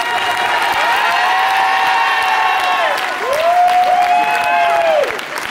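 A concert audience on the Vittel Rio Tour applauds and cheers loudly for a crew member, a dense sustained wash of clapping and crowd noise under gliding electronic tones that runs the whole clip.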